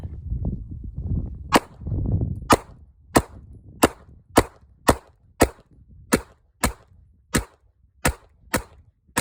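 Pistol shots ring out at a target about five yards away, roughly a dozen sharp cracks at a steady pace, loud and close, with a low rumbling handling noise before the first shots.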